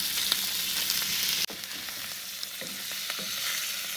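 Shrimp searing over moderate heat in a pan for keto pad thai, a steady bright sizzle that dips abruptly midway, then resumes with light scraping and stirring knocks, no talking.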